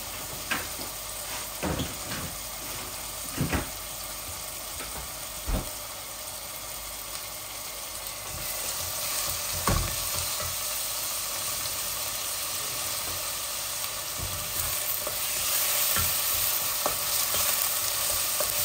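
Onions with ginger and garlic fry in a modest amount of oil for chicken curry, giving a continuous sizzle with occasional stirring clinks and scrapes throughout, growing slightly louder partway through.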